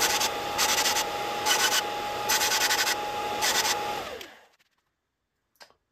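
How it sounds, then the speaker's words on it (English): A belt sander squares up a pipe blank for carburetor bore adapters, rasping in about five rhythmic pressing strokes over a steady motor hum. Then it winds down into silence, and a faint click follows. "So I'm going to have to square this up on the belt sander."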